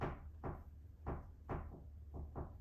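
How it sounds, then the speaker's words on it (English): A pet scratches against a door in a series of about six sharp scraping strokes at a steady, uneven rhythm, fairly close and quiet, with no voices. "She's laying up against the door, scratching."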